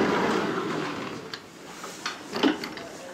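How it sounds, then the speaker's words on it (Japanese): A sliding door in a two-person guest room (room 202) is pulled open, giving a few soft rolling scrapes and a light knock near the end, fairly close and moderately quiet with no talk over it. "これを引くドアです引きます"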